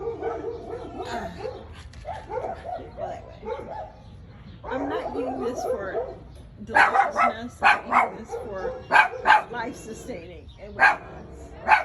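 Dogs bark in a home in several sharp, loud bursts, with some yips and whimpers mixed in. A person talks over the barking, which grows busier toward the end.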